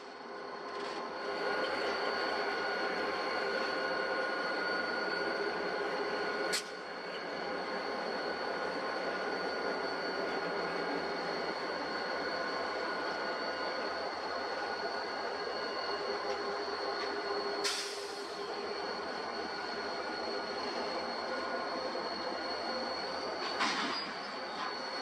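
Canadian passenger train heading back toward Vancouver, rumbling steadily during a slow maneuver, with sustained high wheel squeal and a few sharp screeches across a long stretch, heard alone at a moderate distance.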